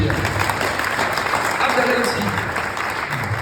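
Audience clapping at a tribute ceremony, a continuous even wash of applause from a room full of people, fairly close and sustained throughout.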